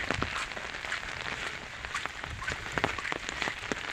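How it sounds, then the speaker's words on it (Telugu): Steady rain patters on a surface nearby in a village, with a dense hiss of drops and occasional sharper taps, and no voices. "చూడండి వర్షం పడుతుంటే"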